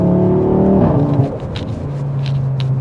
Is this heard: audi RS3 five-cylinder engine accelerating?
yes